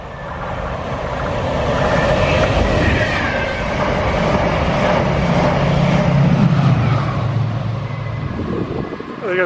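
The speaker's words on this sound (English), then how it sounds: "There goes a fast train." A fast train on the Chiltern Railways line to High Wycombe rushes past, a loud, continuous roar with wind noise and rail rumble building and holding for nearly ten seconds before easing.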